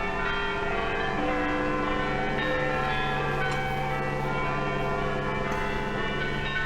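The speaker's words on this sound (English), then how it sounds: "Once more, the people of Britain heard their church bells ring." Church bells in Britain ring out in an archival film recording, their sustained, overlapping metallic tones forming a steady wash of pealing with no voices.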